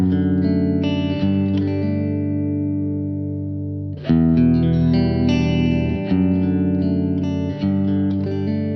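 Electric guitar chords through a Kemper Profiler's compressor, set for parallel compression, ring out with a smooth, compressed, even sustain, a pause in the middle, then strummed chords resume loudly.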